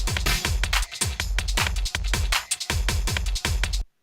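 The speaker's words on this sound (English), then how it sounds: "And it just sounds hollow and scooped out." Dance music track summed to mono, a driving four-on-the-floor kick with dense mids that sounds hollow and scooped, playing loud and steady before stopping abruptly.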